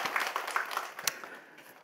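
A church congregation at a Sunday afternoon service gives brief applause, soft scattered clapping heard from a distance, fading out within a couple of seconds.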